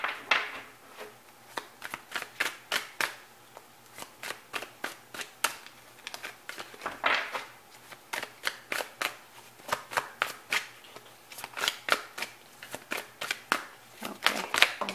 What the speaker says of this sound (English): Okay, I'm gonna shuffle.